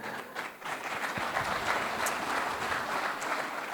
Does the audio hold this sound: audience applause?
yes